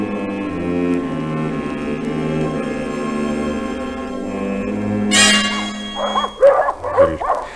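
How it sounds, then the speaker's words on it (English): Several dogs kept loose around a house, in a vintage radio drama, break into loud, close barking and yips near the end, following a stretch of music with people speaking. "Starting from tonight, I'm letting the dogs loose round the house."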